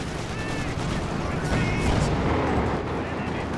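Nebelwerfer rocket artillery fire in a Company of Heroes 2 battle: a steady roar of launches and impacts with dense rumbling blasts, loud and continuous, with no clear gaps.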